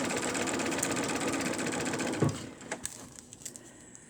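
A sewing machine runs a quarter-inch seam in a fast continuous hum, then slows and halts partway through, followed by a few soft taps and handling noises.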